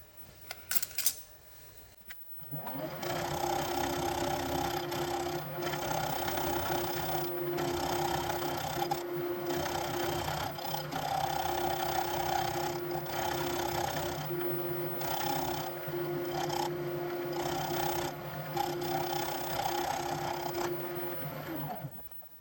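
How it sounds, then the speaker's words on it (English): A manual milling machine cuts along a scribe line on a steel lever part, a steady droning motor hum with a gritty, chattering cutter tone that holds constant after a short clatter at the start. "So this line that we're milling here does actually angle away very slightly from the axis of the machine."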